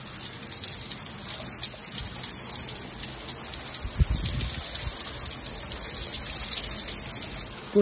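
Heavy rain pouring down outdoors in Ida-Virumaa, Estonia, a steady dense hiss of drops running throughout, close and fairly loud, with a brief low thump partway through and no talking.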